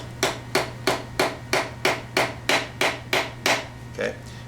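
A small hammer tapping a metal fret into a wooden guitar neck, about a dozen sharp, evenly spaced close knocks in a steady rhythm, with a low hum underneath.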